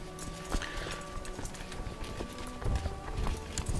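Horses gallop in the Crusader Kings 2 video game, a steady, busy clatter of hooves under a dense, continuous battle ambience with no voice over it.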